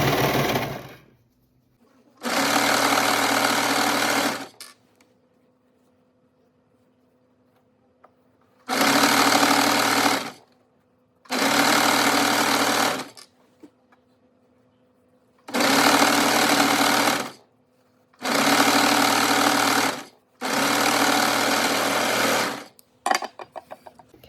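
A sewing machine runs loud, close bursts of rapid stitching through three hoodie layers with a tag caught in the seam, about six runs separated by quiet pauses with a faint hum between them.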